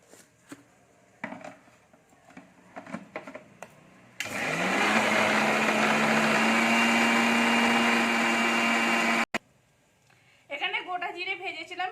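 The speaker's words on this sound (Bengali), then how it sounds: "এখানে আমি ময়দা নিয়েছি কালো চিড়ে নিয়েছি নুন নিয়েছি আর তেল নিয়েছি এটাকে আমি গুড়িয়ে নিচ্ছি" A mixer grinder pulverising flour, black flattened rice, salt and oil: after some handling knocks, a loud, steady motor whir runs about five seconds, then cuts off sharply, followed by a voice talking.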